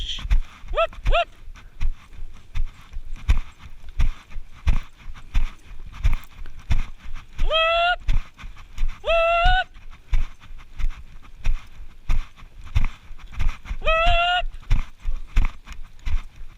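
Cow horses walk over uneven, hole-pocked ground during a cattle drive, hooves clip-clopping in a steady close rhythm, broken by several drawn-out animal calls.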